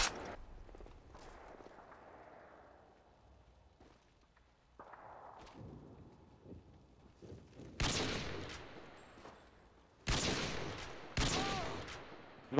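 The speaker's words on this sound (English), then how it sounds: "Sentry gun on the way. Ready to jam." Sentry gun firing in a video game, coming as loud rapid bursts toward the end after quieter game ambience and footsteps.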